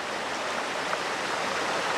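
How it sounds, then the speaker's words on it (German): A clear Black Forest stream flows through a narrow valley between steep slopes, giving a steady, close, full rush of water with no voices. "Hier vor mir fließt der Bach"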